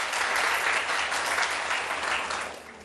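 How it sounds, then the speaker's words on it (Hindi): A studio audience on a morning Sehri television show claps loudly and continuously, a dense, even wash of applause that tapers slightly near the end, with no voices over it. "आप लोग डॉक्टर मदनी साहब के लिए तालियां बजाइए जरा प्लीज।"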